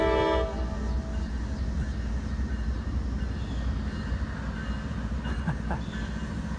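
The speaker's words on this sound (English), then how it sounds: "the Norfolk Southern train is creeping back up" A Norfolk Southern freight train rumbles steadily nearby, a low continuous drone with faint metallic squeals and clanks over the top, no talking.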